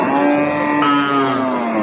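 A single long, drawn-out moo from a head of cattle at a livestock market, close and loud, sustained for nearly two seconds with no talking.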